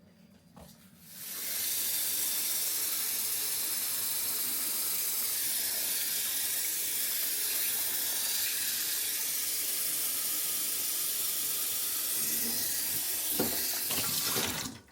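Steady broadband rush of water poured over meat in a pot to stew on the stove, continuous for most of the clip with a faint clatter near the end.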